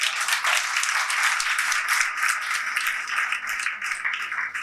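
Hall audience clapping at a Jain monk's spiritual discourse in Kopargaon, a dense, steady round of many hands throughout, fairly close and loud, with no talking.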